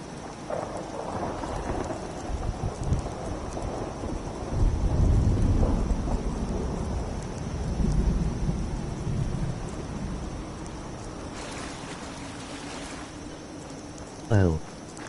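Steady rain hiss in the video game Fallout 4, with low thunder rumbles swelling midway, under faint talk and game music, ending in a short sharp burst.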